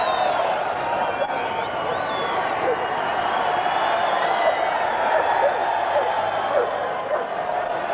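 Stadium crowd at a 1995 Rugby World Cup match between Ivory Coast and Tonga, a steady broad roar of many voices with scattered whoops during an injury break, under continuous commentary.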